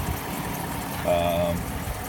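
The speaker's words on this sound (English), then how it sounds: "Engine runs beautifully." A Jeep Commander 4x4 Limited with a Hemi engine idles with a low, steady rumble, close by and fairly loud, with a brief tonal whine rising over it midway.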